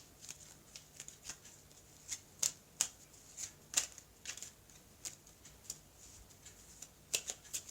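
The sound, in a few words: drawing oracle cards from a deck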